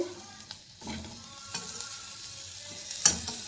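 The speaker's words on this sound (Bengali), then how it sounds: "আমি উল্টো দিক ঘুরিয়ে দিয়েছি, দেখো কি সুন্দর ফ্রাই হচ্ছে" Pieces of paneer sizzle in a hot pan, giving a steady soft frying hiss broken by a few light scraping stirs, heard close and alone.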